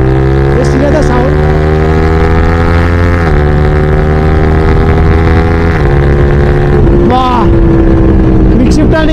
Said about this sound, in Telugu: క్విక్ షిఫ్టర్ని యూజ్ చేస్తున్నప్పుడు బండిలోకి వెళ్ళి టపక్ టపక్ టపక్ మన సౌండ్ వస్తుంది.